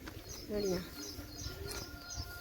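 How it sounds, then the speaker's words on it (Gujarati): Pigeons perched at a farm well, giving soft cooing calls with a few chirps against an open outdoor background. "જ્યાં અમારો કૂવો છે આમાં કબૂતરા બેઠા છે"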